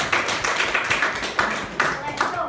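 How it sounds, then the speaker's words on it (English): A small audience at a speakers' club meeting claps, giving a round of applause in a steady patter of hands at moderate volume, with speech-like sounds mixed in. "So I think we can give everyone a round of applause"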